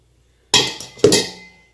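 A utensil scrapes a cooking bowl clean while making French silk pie filling: two short, close scraping strokes with a bright, slightly clinking edge, each fading quickly, with silence before and between.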